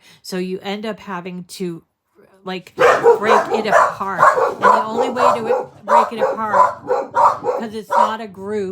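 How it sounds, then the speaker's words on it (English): A pet dog lets out a few sharp barks and yips indoors, first on its own and then as a person keeps talking over it. "Sorry about the dog."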